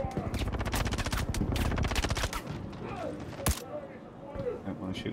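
The S-71 rifle in Star Citizen fires rapid automatic bursts during a bunker mission, loud and close, followed by a sharp single shot and quieter game sounds.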